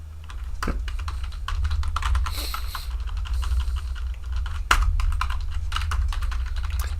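Steady typing on a quiet computer keyboard, with rapid, soft key clicks over a constant low hum and a few sharper taps, close to the microphone and with no talking.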